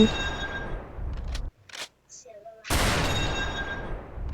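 Dense bursts of gunfire crackle loudly, pause briefly, then resume in a sustained volley, sounding like weapons firing in quick succession in Roblox Brookhaven.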